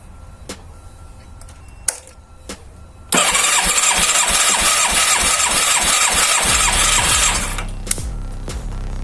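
A Yamaha FZR 1000 EXUP motorcycle engine roars loud and steady at full throttle for about four seconds, then drops back to a lower idle, with a few sharp clicks before and after.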